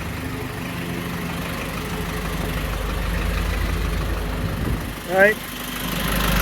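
A 2005 Isuzu NPR truck engine idles steadily with excessive blow-by after a rebuild, a constant low rumble close by, with a brief voice near the end.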